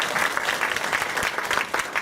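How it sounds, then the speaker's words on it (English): Conference audience applauding panelists after a law school alumni talk on the Flint water crisis case, steady dense clapping filling the room throughout, moderately loud with no voices on top. "Let's give another quick round of applause."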